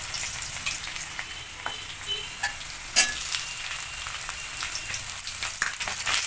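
Ginger paste hitting hot oil with red-fried spices and potatoes in a pan, a steady close sizzle and crackle broken by a few sharp spoon taps and stirring clicks, with no voices.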